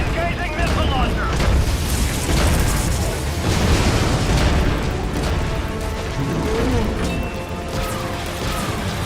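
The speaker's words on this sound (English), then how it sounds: "Engaging missile launcher." Missile launcher firing and explosions in Metal Gear Solid V: The Phantom Pain, heavy booming blasts and mechanical rumble rolling continuously, loud and close, with low voices mixed in.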